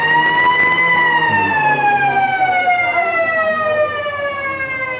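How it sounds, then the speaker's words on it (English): A loud siren at a 1984 VFA second-division football match between Waverley and Berwick, sounding before play with a long sustained wail that slowly falls in pitch over about five seconds. "there goes the siren, and the umpires are on the ground"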